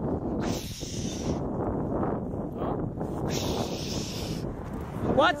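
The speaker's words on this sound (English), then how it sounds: "You have to speak up when it's windy out." Wind blows hard outdoors, buffeting the microphone with a constant, loud, low roar that barely changes from start to end.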